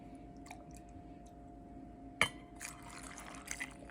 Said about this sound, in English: so I'm gonna add just the water